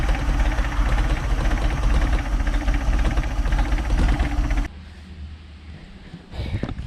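A Mercruiser boat engine with a newly replaced starter rumbles loudly at a steady idle, then cuts out abruptly, leaving a quieter low hum before a brief thump and rise of noise.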